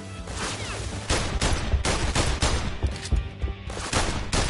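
Gunfire in the VR shooter The London Heist, a loud close fusillade of sharp shots fired in quick uneven bursts, some overlapping, continuing steadily without talk.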